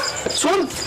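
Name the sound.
dogs barking outside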